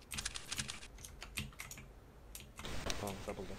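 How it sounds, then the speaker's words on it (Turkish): Computer keyboard typing during a CS:GO match, a quick run of close, crisp key clicks in bursts with a short pause, then denser typing, under faint game sounds. "Kimin klavyesi ya? Benim."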